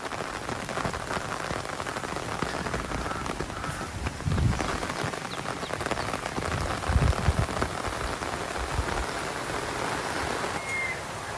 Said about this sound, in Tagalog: Nabot na po kami ng ulan.